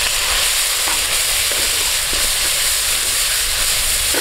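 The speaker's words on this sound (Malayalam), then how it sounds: "നാരങ്ങ നന്നായിട്ട് ഇതിൽ ഒന്ന് വാടി വരുന്ന വരെ നന്നായിട്ട് മിക്സ് ചെയ്ത് കൊടുക്കുക." Salted lemon pieces fry in a pan for a Kerala lemon curry, with a loud, dense, continuous hiss and sizzle broken by a few faint stirring knocks, and no voices.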